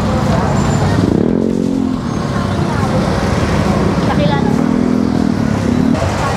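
Heavy street traffic on Juan Luna Street in Divisoria, a steady close roar of engines and road noise, with people talking over it.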